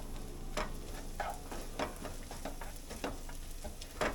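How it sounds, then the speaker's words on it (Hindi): Onion, garlic, ginger and green chilies frying in oil for a Punjabi tadka for rajma, a soft continuous sizzle broken by repeated stirring scrapes, close and fairly quiet. "तो अच्छे हमारे ये प्याज वगैरह और अदरक वगैरह भुन चुका है"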